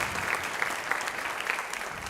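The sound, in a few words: audience applause at a high school jazz concert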